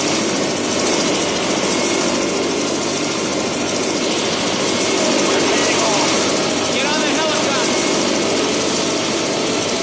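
A helicopter engine in Left 4 Dead 2 roars with a steady, loud whirring drone that holds through the whole stretch. It sits under game noise and voices.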